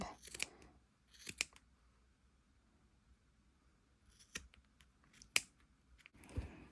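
Scissors snip through paper being trimmed for an open-spine journal, a few crisp cuts spaced apart with quiet pauses between them, close and fairly soft.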